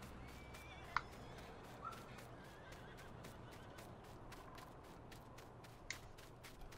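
Horses on a Farming Simulator 19 cotton farm give a couple of brief whinnies over a steady ambient bed of farm background sound, with no speech.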